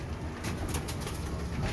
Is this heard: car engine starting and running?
no